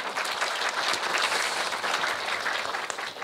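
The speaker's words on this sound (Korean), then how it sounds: "큰 박수 부탁드리겠습니다." A room full of people at a Nowon-gu multicultural family policy forum applauds steadily, dense clapping sustained from start to finish without speech.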